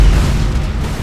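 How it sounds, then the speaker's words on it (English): An enemy defense platform explodes in the space battle game Battlefleet Gothic Armada 2, a loud, deep boom that fills the whole short moment with rumbling low-end energy. "Enemy defense platform destroyed."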